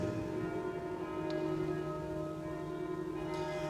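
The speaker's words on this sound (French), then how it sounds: "avec le son des cloches de l'Angélus" Church bells ring the Angelus faintly in the distance during a Catholic Mass, a sustained metallic hum hanging over a quiet, steady background.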